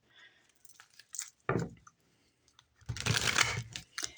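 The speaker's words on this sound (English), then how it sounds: "start shuffling these guys and drawing them for the second half of 2025" A Pulp Tarot deck is shuffled by hand in two short bursts, a quick riffle and then a longer crisp rustling, with soft clicks and taps between them in an otherwise quiet room.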